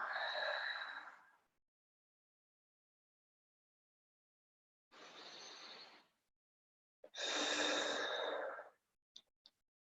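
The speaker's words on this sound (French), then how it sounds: "On respire" A person breathes slowly during a self-massage exercise: a long exhale, then two more breaths a few seconds apart, close and soft, with faint hand movements at the end.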